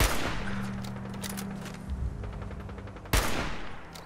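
Gunfire in a Fallout 4 firefight: a rapid burst of shots at the start, then scattered cracks and a sharp loud shot near the end over a low droning background, no talking.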